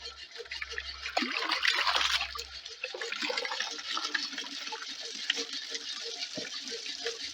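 Water pumped by a horizontal Stirling engine pours steadily into a measuring jug, a soft continuous trickle and splash heard fairly close, with faint low rumbles in the background and no talking.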